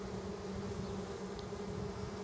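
Honey bees buzz steadily around an open hive, a continuous close droning hum with no talking.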